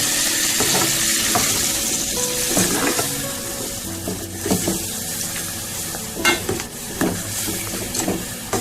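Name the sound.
frying sizzling in pan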